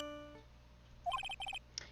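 A short electronic phone ringtone chirps in Phoenix Wright: Ace Attorney, a quick run of rapid beeping tones in clustered bursts, faint and brief after a fading musical note.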